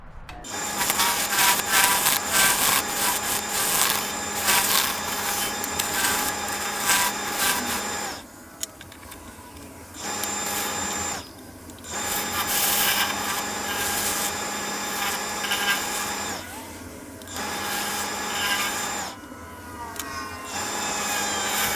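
Steady woodworking lathe noise as a tool cuts and scrapes the outside of a spinning acrylic and cedar bowl, running continuously with a few brief pauses where the tool lifts off.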